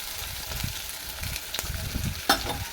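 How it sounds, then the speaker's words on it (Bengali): Chopped onions, about 400 g, sizzle and fry in a kadai for mutton kosha. A quiet, continuous crackle is broken by soft stirring scrapes and a sharp spatter near the end, with no talking. "নিয়ে এইভাবে আমি কুচি করে কড়াইয়ের মধ্যে দিয়ে দিলাম"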